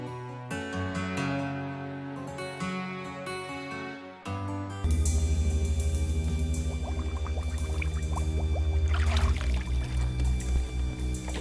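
Water poured out in a steady, continuous splashing stream, fairly close, following a stretch of music with no voices.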